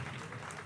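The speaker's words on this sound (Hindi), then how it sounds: "एक बार जोरदार तालियां बजाइए।" Crowd clapping at a Holi gathering and victory celebration, a dense, even burst of applause heard briefly and at a moderate level with no clear gaps.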